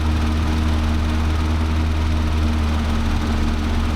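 A Triumph Spitfire engine hums steadily with overdrive engaged, droning on at constant speed, close and loud, with a low vibrating rumble and no voices.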